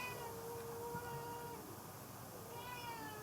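A cat meows in drawn-out, wavering cries, one long call followed by another near the end, fairly close with a soft background hum.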